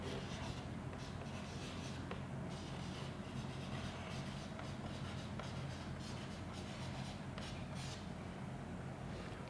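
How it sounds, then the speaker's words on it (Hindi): Marker or chalk writing on a board during a Class 12 physics lecture, a steady continuous scratching and rubbing over a constant background hum, with no talking. "मैं ये लिख देता हूँ"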